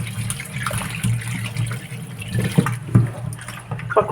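Water runs steadily from a tap while sweet potatoes are washed clean for a snack, a close, continuous splashing wash with a few louder knocks and splashes near the end.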